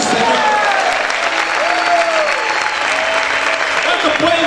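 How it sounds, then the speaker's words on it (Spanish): A church congregation applauds loudly and steadily through the whole stretch, a dense wash of clapping with voices and cheers mixed in. "Si yo fuera usted, aplaudiera fuerte al Señor."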